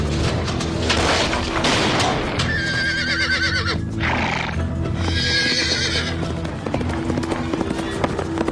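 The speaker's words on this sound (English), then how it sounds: "I found a stolen horse." A horse whinnies loudly in two long, quavering neighs, with hooves clip-clopping and thudding underneath in a comedy TV scene from 2003.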